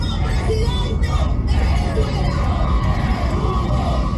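A large crowd at a Venezuelan opposition rally cheers and shouts in a dense, steady roar that holds throughout at close range.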